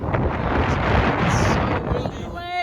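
Strong gusting wind on a cold mountain trail at Big Bend National Park, roaring heavily into the microphone for most of the moment, then easing slightly at the end.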